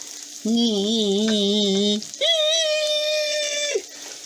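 Potatoes frying in hot oil give a steady sizzle throughout, partly covered by loud sustained tonal sounds like a voice that start and stop twice.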